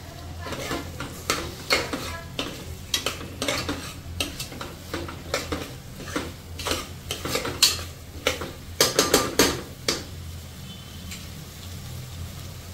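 Potatoes and masala fry in oil in a pan for dhuska, with repeated stirring scrapes and clinks of a spoon against the pot over a soft, steady sizzle, close and moderately loud, without any talking.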